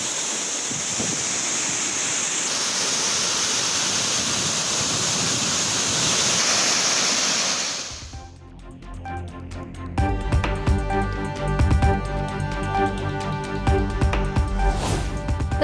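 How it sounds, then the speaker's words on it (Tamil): Courtallam waterfall in Tenkasi in heavy flood, a loud steady roar of rushing water for about eight seconds, then abruptly replaced by busier broadband noise. "தென்காசி குற்றாலம் அருவியில் கடும் வெள்ளப்பெருக்கு."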